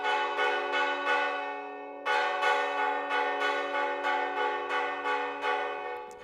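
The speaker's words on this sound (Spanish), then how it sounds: "Con las campanas y los campaneros les decimos adiós." Church bells rung by hand in Castilla y León, heard close and loud as a fast run of bright, ringing strokes, briefly paused and then resumed with long resonant overlap.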